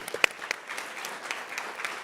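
An audience at a startup pitch competition applauds, with a few loud, distinct claps at the start that spread into a fuller, steady round of clapping.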